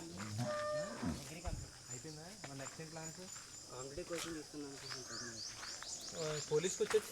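Cows moo repeatedly in cattle sheds on a village farm, nearby drawn-out lowing calls under a person talking, with insects chirping faintly behind.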